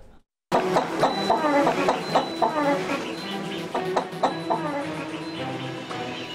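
A Kadaknath rooster clucks repeatedly in short, uneven bursts, close and loud, with faint farmyard background noise.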